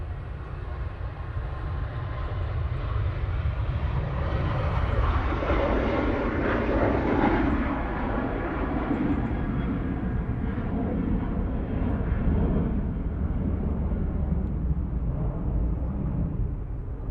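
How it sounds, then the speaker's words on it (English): Ryanair airliner on its takeoff roll at Manchester Airport, a powerful, sustained jet roar that swells to a peak midway and then slowly recedes into distance, with no talk. "this RyanAir is now on the roll"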